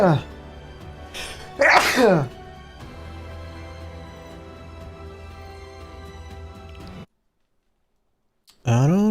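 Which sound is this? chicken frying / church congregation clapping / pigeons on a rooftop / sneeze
sneeze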